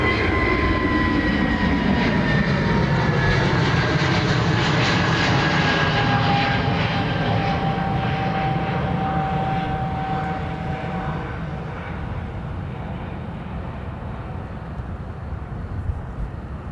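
An American Airlines Dreamliner at Dublin Airport runs its jet engines in a loud, sustained roar with a steady high whine, easing slightly in the final seconds.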